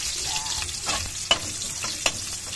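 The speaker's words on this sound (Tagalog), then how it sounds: "Mix natin, guys, ang sibuyas." Onions are stir-fried in a pan for spicy pancit bihon, a constant close sizzle punctuated by two sharp utensil scrapes and clacks against the pan.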